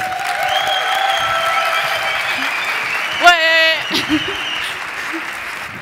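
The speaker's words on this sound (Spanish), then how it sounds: "Un aplauso para él." An audience at a tech conference talk on the future of AI applauds as the speaker is introduced, steady clapping under a voice, then a sharp microphone bump and brief murmurs as it fades.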